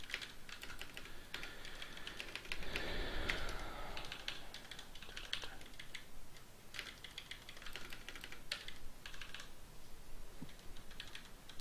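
Computer keyboard keys clack in quick irregular bursts, including backspace presses, close and fairly quiet, with short pauses between flurries of typing.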